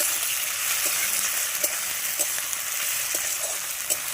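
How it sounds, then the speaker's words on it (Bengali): Tomatoes fry in spiced oil in a pan for a Bengali fish-head muri ghonto, giving a steady, dense sizzle with occasional soft stirring taps, close and continuous with no voices. "তেলের উপর তেল ছেড়ে দিয়েছে টমেটোটা দিয়ে দেবো"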